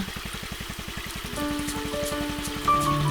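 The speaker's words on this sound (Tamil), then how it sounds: "மழை மழை வர மாதிரி இருக்கு" Rain falls in a dense, steady patter with rhythmic drips, while faint tonal background sounds enter partway through and continue to the end.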